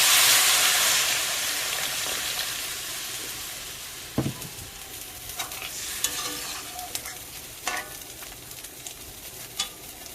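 Water poured into a pan of sizzling giant prawn curry: a loud hissing rush of steam that fades, followed by quieter bubbling and a few stirring clinks.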